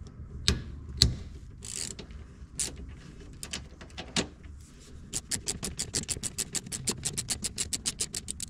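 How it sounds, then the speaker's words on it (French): A 13 mm wrench ratchets on a Porsche 911 suspension bolt with the wheels removed: a few scattered clicks and knocks, then a long, fast run of evenly spaced ratchet clicks, close and clear, with no talking. "Donc je vais prendre une clé de 13."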